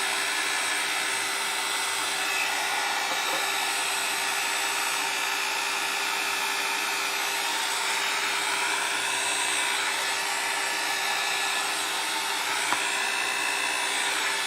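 A heat tool set on low blows air across alcohol inks, a steady, loud whooshing hum with a faint constant tone that runs unbroken throughout.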